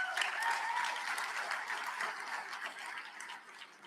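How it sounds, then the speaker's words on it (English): An audience at a university president's spring address gives a fairly quiet, steady round of applause that tapers slightly toward the end, with no talking over it. "Let's give her a big round of applause."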